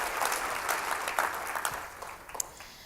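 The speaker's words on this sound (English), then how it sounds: "So give yourself a round of applause." Audience applause fills a keynote hall, a steady wash of clapping that holds for a few seconds, then thins and tapers toward the end.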